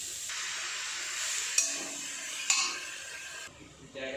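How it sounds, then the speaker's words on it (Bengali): Spices frying in a pan, joined by chopped onion and tomato for an oil-free chicken curry, give a steady close hiss and sizzle with two sharp bursts as ingredients hit the pan, then the hiss drops and lifts again. "মশলাগুলো ভাজা হয়ে গেলে এতে আমরা দিয়ে দেবো পেঁয়াজ কুচি আর টমেটো কুচি"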